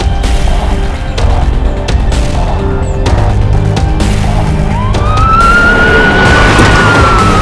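A car speeds along with a police siren wailing over it, the siren's rising tone sweeping in loud and near over steady engine and road noise throughout.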